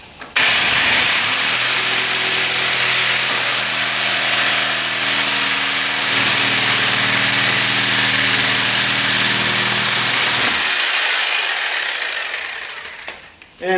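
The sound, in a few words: sawzall reciprocating saw cutting donor car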